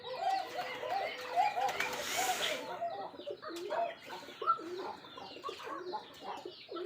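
Koka pigeons held in the hand before being boxed give soft, nervous coos and flutters, close and fairly quiet, with a brief rustle of handling in the middle.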